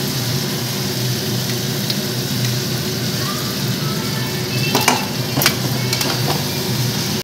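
Chopped onion and spice masala for rajma frying in a pan, a continuous loud sizzle with a few scraping stirs near the end, over a steady low mechanical hum.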